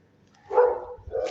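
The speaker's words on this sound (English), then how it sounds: "The dog." A dog gives a single short bark at moderate distance, followed by a fainter second yelp, against an otherwise quiet indoor background.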